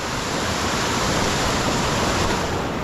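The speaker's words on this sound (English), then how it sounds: "It looks like there's another falls up above." A waterfall on a brook trout stream in old pine and hemlock woods gives a steady, dense, full-bodied rush of falling water, loud and close and unbroken, with no voices.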